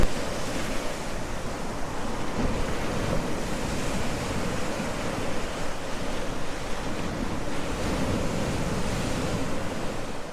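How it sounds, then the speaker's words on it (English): Ocean waves wash and roar continuously, mixed with steady wind rush across the microphone, no voices. "We gotta go check out these waves."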